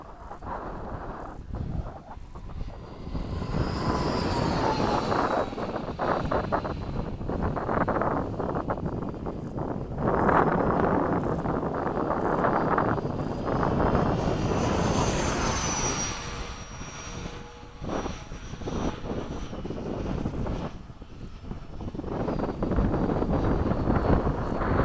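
A Freewing 90mm F/A-18 Blue Angel RC jet flies after sunset, its ducted-fan whine swelling and fading as it makes passes, with steady wind buffeting the microphone throughout.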